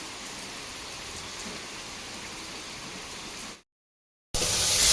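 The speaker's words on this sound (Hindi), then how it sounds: "बारिश आप देखो कितनी तेज़ है" Heavy rain pours as a constant hiss, then cuts out in a brief silence before resuming louder and harsher.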